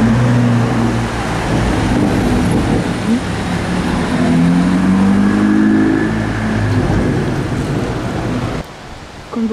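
A Mercedes-AMG GT R sports car at the Zoute Grand Prix, its engine droning loudly and rising in pitch as it revs, heard close amid outdoor traffic noise before cutting off abruptly.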